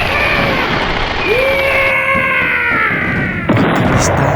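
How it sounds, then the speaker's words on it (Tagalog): Cartoon firecrackers burst during a town fiesta, a dense crackling wash with rising whistling streaks overhead and a sharper pop near the end, continuous and loud. "Ingay ng mga paputok na nagsasalimbayan sa papawirin."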